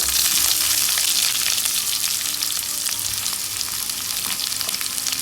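Onion sautés in hot oil with chana dal for an onion chutney, a loud continuous hiss and crackle of frying that stays steady from start to finish without any voices.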